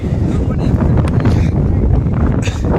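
Strong wind on a mountain top at Machal buffets the microphone in a steady, loud roar with gusty rumbling throughout, drowning out any other sound.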